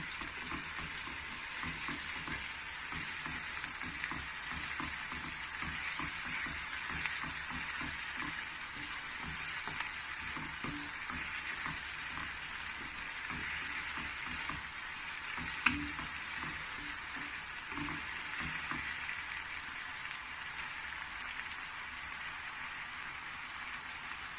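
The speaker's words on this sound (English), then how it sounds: "I'm going to add ginger garlic, 1 tablespoon of garlic and 1 teaspoon of ginger, and then stir" Ginger and garlic fry in a pan for a Bangladeshi vegetable curry, a dense, steady sizzle like rain on a surface running throughout, with soft scraping stirs underneath and no talking.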